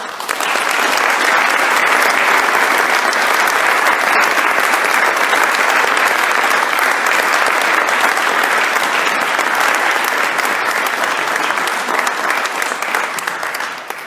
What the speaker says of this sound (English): Could we take a moment now to recognize all these people with a grateful, resounding round of applause?